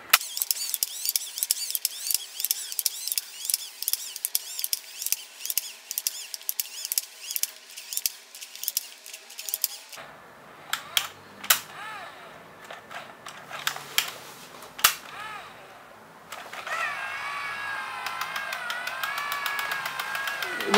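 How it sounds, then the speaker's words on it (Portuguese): A Yashica MD 135 AE film camera motor-rewinds its 36-exposure roll, giving a run of close, crisp clicks and whirring mechanical ticks that shift into a steadier higher whine near the end, with no talking. "quando você completa o número de fotos, ele começa a rebobinar sozinho"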